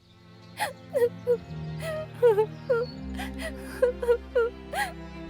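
A cartoon bird cries in a string of short, high whimpering sobs, about a dozen quick wavering cries over soft background music, close and fairly quiet.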